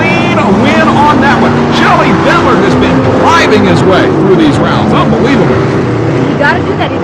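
A racing truck's engine roars and revs hard as it slides through mud on a track, loud and close, with voices talking over the shifting engine tones.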